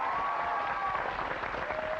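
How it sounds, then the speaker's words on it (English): A brief burst of studio audience applause fills a talk show set: loud, continuous clapping with a faint crowd murmur underneath, lasting about two seconds. "huge round of applause for our friends from San Francisco"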